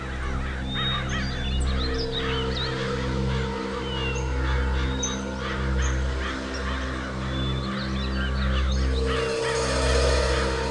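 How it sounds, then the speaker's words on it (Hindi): A large flock of crows caws continuously near water, harsh overlapping calls filling the air over a steady low drone, with no talk. "वहाँ थोड़ा पानी दिख रहा है और बहुत सारे कौवे भी मंडरा रहे हैं।"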